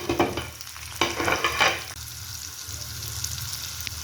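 Tomato, ginger, garlic and almonds sizzle steadily in a hot pan, with a few louder stirring scrapes and clatters early on before the frying settles into an even hiss.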